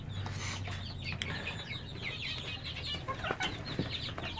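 An eight-week-old silkie cockerel chick clucks softly among other chicks, giving faint, scattered chirps and clucks over a steady low background hum.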